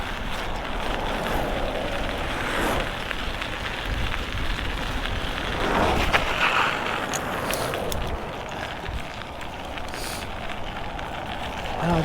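Rain and wet spray hiss steadily around someone riding a Bafang BBS02 e-bike along a sidewalk, mixed with rushing wind buffeting the microphone, loud and continuous for the whole stretch.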